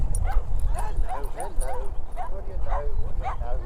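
A dog named Tenchi whimpers and yips in short, whiny bursts with a few barks mixed in, close and fairly loud, as it tries to hand over a ball on a morning outing.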